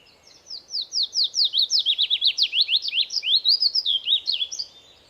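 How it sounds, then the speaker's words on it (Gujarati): Birds singing a lively run of rapid, sweeping chirps and trills, close and clear against a quiet background, continuing for several seconds with no voices. "The birds could sing beautifully."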